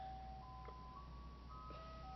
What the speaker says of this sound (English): there's an ice cream truck outside.